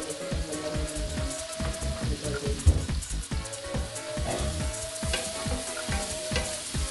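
Onions fry in a hot pan with a dense, close sizzle and crackle, broken up by repeated stirring clatters of a utensil against the pan, with no talking.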